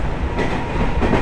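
JNR-type electric train running on rails, a loud, steady rumble of wheels and motors with faint rhythmic clatter throughout, heard from inside the car with no talking.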